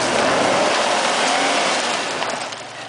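A Jeep Rubicon on 37-inch tyres revs its engine hard off-road on rocky, log-strewn ground, a loud, sustained roar that eases slightly near the end.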